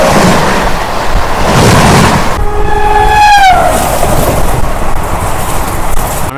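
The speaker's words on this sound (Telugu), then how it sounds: "Shalimar Chennai by weekly AC super fast express అయితే వస్తుంది" Shalimar–Chennai weekly AC superfast express train rushing past at close range, a steady loud roar of wheels and cars with a long falling-pitch horn blast sounding midway.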